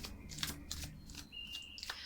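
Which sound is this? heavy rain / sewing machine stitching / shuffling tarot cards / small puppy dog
shuffling tarot cards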